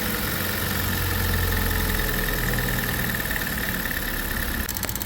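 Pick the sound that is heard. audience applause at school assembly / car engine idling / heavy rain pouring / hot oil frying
car engine idling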